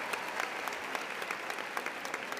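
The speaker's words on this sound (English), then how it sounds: "Give yourself a round of applause" Graduating seniors and their audience at the Hastings High School 2016 commencement clap in a broad, even wash of applause, heard from a distance and fairly soft, continuing steadily without pause.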